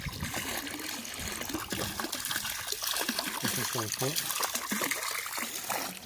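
Water from a plain garden hose with no nozzle trickles and splashes into an Intex above-ground pool, a steady continuous flow with someone speaking over it.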